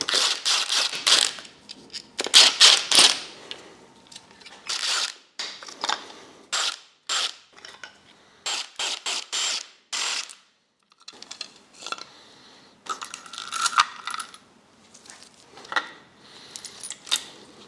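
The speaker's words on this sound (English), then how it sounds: "Now I'm just gonna remove the entire chain assembly." Metal parts of a BMW 535d engine's timing chain assembly are worked loose with a ratchet: a run of sharp, irregular clicks and clanks in uneven bursts, close to the microphone with brief pauses between them, no talking.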